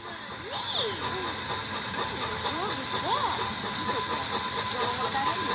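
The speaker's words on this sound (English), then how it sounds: "here comes the train." Milwaukee Road 261 steam excursion train approaching through open countryside, a steady hissing rumble of steam and rolling cars, with people's voices talking over it.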